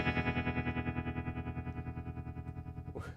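Guitar amplifier tremolo wobble set to an extreme speed, a fast pulsing chordal tone throbbing rapidly and steadily before cutting off near the end, played alone without talk.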